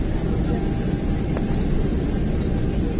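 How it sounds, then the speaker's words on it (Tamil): Airplane rolling down the runway at Chennai airport before takeoff, heard from inside as a steady, loud, broadband engine roar that holds constant throughout. "ஃப்ளைட்டு ரன்வேல ஓடிக்கிட்டு இருக்கு"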